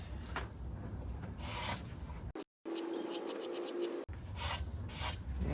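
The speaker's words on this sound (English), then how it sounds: "Let's try sanding." Wood is sanded by hand for a custom kitchen riser, a steady close rasping scrub in long strokes broken by a brief pause, with no talking.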